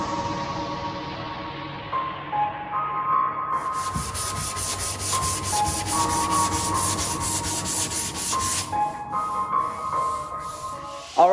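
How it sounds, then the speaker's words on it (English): Body filler being sanded by hand on the quarter panel of a 2019 Ford Mustang GT, a steady continuous rubbing scrape with a brighter, harsher stretch in the middle, close up with no talking. "Right now we're going to mix up another layer of Bondo, wipe it on there, and start sanding."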